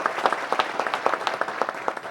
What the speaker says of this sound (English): everyone give them a round of applause for bringing them out